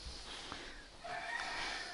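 Chickens cluck and murmur quietly in a chilly farmyard coop against a steady background hiss, soft and somewhat distant, with no talking.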